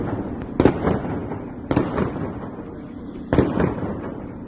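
Three booming firework bursts go off a second or more apart, each with a sharp crack and rolling echo, fairly distant in open air over a residential neighbourhood in Myrnohrad, Ukraine.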